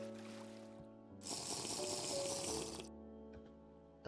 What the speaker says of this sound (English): I just wasted a water bottle on that.